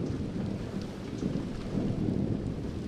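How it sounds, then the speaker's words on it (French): Steady heavy rain with low rolling thunder from a horror video game trailer, a continuous dense wash throughout with no voices. "Et il pleut."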